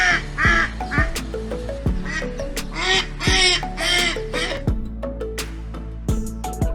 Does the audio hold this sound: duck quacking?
yes